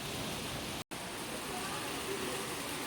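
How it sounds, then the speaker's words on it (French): Steady hiss of rain falling, broadband and continuous, briefly cut by a split-second dropout near the start. "Ça nous pleut dessus."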